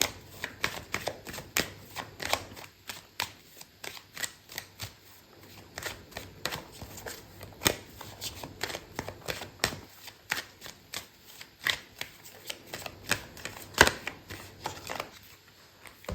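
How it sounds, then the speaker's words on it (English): Tarot cards being shuffled by hand, a long run of close, crisp riffling flicks and taps in uneven rhythm, with no talking. "so I'm gonna pull out another card for you."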